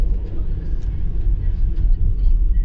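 Inside a Skoda Rapid on winter tyres at nearly 40 km/h, a steady low road roar comes from the wheel arches, a continuous dull rumble filling the cabin.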